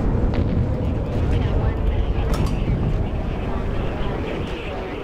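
Artillery strike explosions in a zombie strategy game, a loud rumbling blast with deep booming bursts and crackling debris that slowly tails off, heard under game noise.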